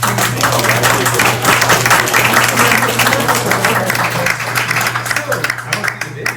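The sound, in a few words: applause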